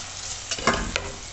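Food frying in a pan is stirred, a sizzling hiss broken by several short scraping strokes of a utensil, close and fairly loud with no talking.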